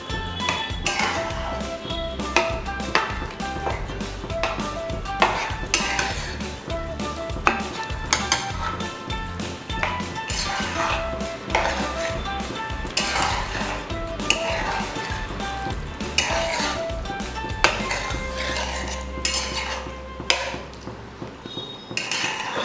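Mutton for a ghee roast is stirred and mixed in a pan with a utensil, giving continuous scraping and clinking against the metal over a steady frying sizzle, close and fairly loud throughout.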